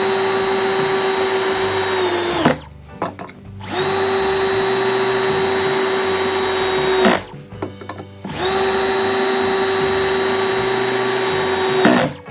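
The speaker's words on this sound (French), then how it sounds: "si maintenant on attaque une série de vissages avec des vis de 4 par 70, donc des vis relativement longues" Cordless drill at its lowest speed driving long 4x70 screws into wood: three loud, steady whirring runs of about two to four seconds each, separated by brief pauses, close and with no talking.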